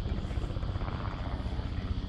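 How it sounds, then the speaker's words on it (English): A helicopter passes at a distance over a riverside park in Sydney, a steady low rotor thrum that stays fairly faint and constant throughout. "I think we got the chopper over there passing by."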